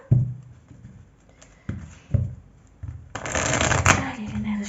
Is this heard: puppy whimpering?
no